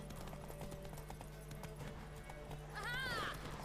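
A horse gallops in The Witcher 3: Wild Hunt during a horse race, with steady clip-clop hoofbeats over a low hum and a clear whinny near the end.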